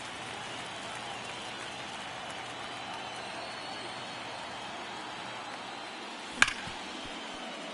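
A postseason baseball crowd makes a steady, distant rumble of noise across a stadium, with one sharp crack-like burst near the end.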